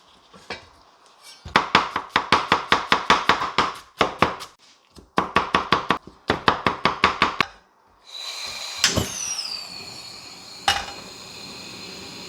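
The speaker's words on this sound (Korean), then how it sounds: "훈연을 하는 동안 재료 손질을 해볼게요." A knife chops rapidly on a cutting board in quick rhythmic runs with brief pauses while preparing jjamppong ingredients, followed by sizzling and a few clatters.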